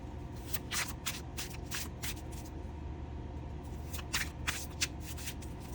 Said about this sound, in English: Let me just riffle shuffle these.